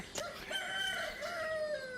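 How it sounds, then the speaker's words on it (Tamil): A rooster crows once and clearly, one long rising and falling call at moderate distance with no talk over it. "சேவல் குவிச்சு"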